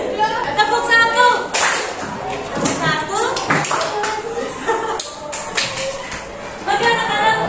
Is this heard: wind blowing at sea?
no